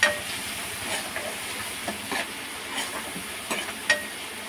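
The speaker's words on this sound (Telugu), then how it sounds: "ఇప్పుడు ఒక 2 సెకండ్స్ వేగనివ్వాలి." Ginger garlic paste and turmeric frying in a pan for egg tomato curry, a steady close sizzle broken by scattered clicks and scrapes from stirring, with no talking.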